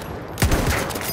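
Gunfire in the World War I shooter Battlefield 1, a short burst of several loud, closely spaced shots erupting after a quiet start, with echoing tail behind it.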